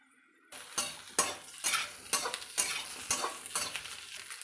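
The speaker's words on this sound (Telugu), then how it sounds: "ఇప్పుడు మనం ముందే ఫ్రై చేసి పెట్టుకున్న చికెన్ని వేసుకోవాలి" Pre-fried chicken is stir-fried in a pan for street-style chicken egg fried rice. A metal spatula scrapes and tosses in regular strokes about every half second, each stroke bringing a crisp sizzle up close.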